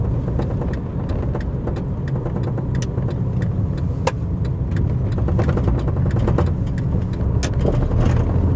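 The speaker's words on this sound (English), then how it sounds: "I'm right in the centre of Manchester, so there's cars flying everywhere." Steady traffic in the centre of Manchester on a Sunday, with cars driving past continuously as a loud, close, unbroken engine and tyre rush, and no voices.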